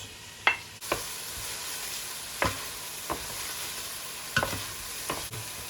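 Meat searing in a hot pan of olive oil and butter, a steady sizzle running throughout, broken by several sharp clinks and scrapes of a utensil against the pan.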